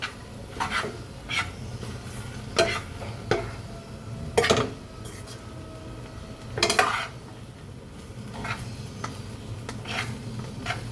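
Pancit bihon rice noodles stirred in a pan, with clattering utensil scrapes and knocks against the metal at an irregular rhythm, close and fairly clear over a low background hum.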